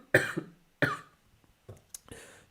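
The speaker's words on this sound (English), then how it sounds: "It's that COVID cough." Two sharp, close coughs from someone with COVID, a moment apart, followed by a few softer throat sounds and a short breath.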